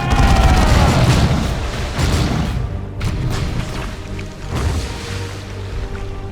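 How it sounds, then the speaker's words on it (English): Bombardment blasts from a hive node in the Dawn of War II game rumble in a heavy, continuous low boom, with several deep thuds rolling over one another and no talk. "Bombardment from a hive node."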